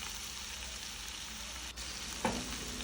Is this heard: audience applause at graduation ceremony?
no